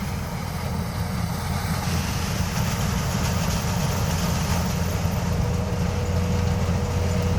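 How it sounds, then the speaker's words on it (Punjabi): Tractor engines working a paddy field for puddling, a continuous, loud, droning rumble with steady mechanical noise and no pauses or talk. "ਦੋ ਤਿੰਨ ਟਰੈਕਟਰ ਕੱਦੂ ਕਰਨ ਲੱਗੇ ਹੋਏ ਆ"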